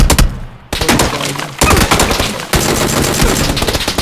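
Video game gunfire rattles in rapid, loud bursts, with sharp breaks between volleys and sustained automatic fire filling most of the stretch.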